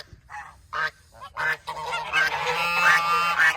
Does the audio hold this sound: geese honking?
yes